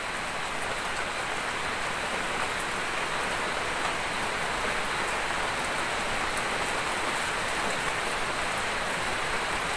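Steady, even rain falls outside an abandoned tourist site during a camping trip, a dense hissing patter that continues unbroken with no voices.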